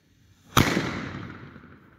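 One sharp firework bang from a Nico Meteor Schlag F2 banger with a pre-burner fuse, a sudden close crack followed by a long fading outdoor decay.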